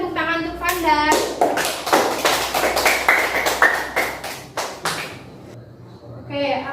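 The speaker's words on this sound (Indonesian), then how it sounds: "Yang lain berikan tepuk tangan untuk Fanda." Students in a classroom clap for a classmate. The quick, uneven claps run for several seconds, mixed with voices, then fade out.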